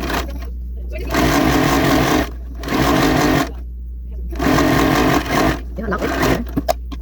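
Sewing machine stitching in three sustained bursts with elastic shirring thread wound in the bobbin, a steady mechanical whir between short pauses, with a constant low hum underneath.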